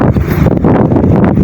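Strong wind buffeting the microphone outdoors near mountains in Sariaya, Quezon, a loud, continuous low rumble that fills the whole clip with no pauses.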